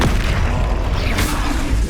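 Loud, booming Bombarda blast spell explosions in Hogwarts Legacy, a heavy rumbling detonation that fills the whole moment, with a sharper burst near the end and no voices.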